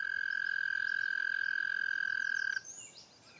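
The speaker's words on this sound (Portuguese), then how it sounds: "Perto do lago, um sapo tenta atrair possíveis parceiras." A male frog near a lake gives a sustained, loud trilling croak as its mating call. The call runs steadily for about two and a half seconds, then cuts off abruptly into quieter background sound.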